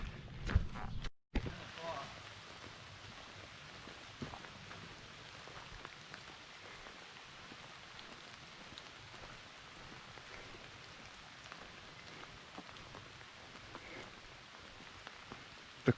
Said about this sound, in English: The morning rain, just a kind of a steady rain this morning